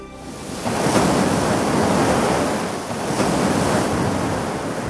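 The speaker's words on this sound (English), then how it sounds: "with waves pounding its coastline" Waves pound the shore of Lake Tanganyika, a continuous roaring surf with swelling surges and wind buffeting the microphone, loud and close with no voices.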